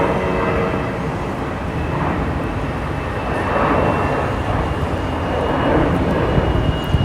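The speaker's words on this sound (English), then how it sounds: "we have the United A319 taking off, heading to O'Hare" United Airbus A319 taking off from Boise airport, a steady broadband engine roar that swells slightly midway and holds loud and continuous throughout, with no voices.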